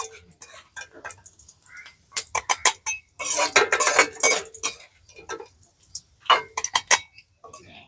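Fried pieces are dropped into a mixing jar, a series of close clinks, taps and rattles in irregular bursts with quiet gaps between.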